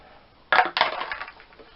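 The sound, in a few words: unwrapping PC power supply cables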